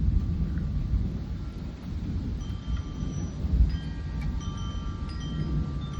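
Thunder in a South Carolina evening thunderstorm heard from a porch: a continuous deep, loud rumble rolling on and on, with rain and wind noise in the background and no voices.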